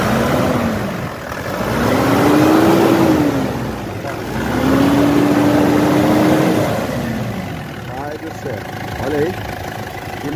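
A 2013 Mitsubishi L200 Triton with a 3.2 diesel engine revs up twice in long, loud swells, then settles back toward idle between them. Faint speech is heard near the end.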